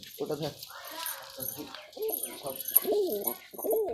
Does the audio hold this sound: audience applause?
no